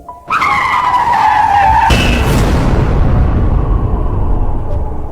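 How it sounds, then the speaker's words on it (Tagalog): A loud, sustained tire screech from a car braking outside a disco bar erupts suddenly, a high squeal that gives way to harsh, noisy skidding that continues to the end. "malakas na ingit ng preno ang narinig ng mga tao sa labas ng disco bar"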